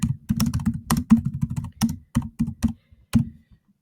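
Close, crisp keystrokes clatter on a computer keyboard as an email reply is typed, arriving in quick irregular bursts of a dozen or so clicks before stopping.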